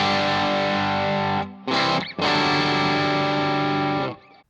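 Distorted electric guitar chords through a CKK Honey Jar Tube Screamer TS808-style overdrive pedal ring out thick and saturated, held long with a brief break in between, then cut off.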